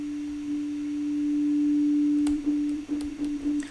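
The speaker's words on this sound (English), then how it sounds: "We're only listening to the wet signal of the reverb, the fully affected." Wet-only output of Ableton's Reverb effect, a steady sustained tone washing out over a few seconds, then broken by soft reverberant clicks and chirps, alone with no voices.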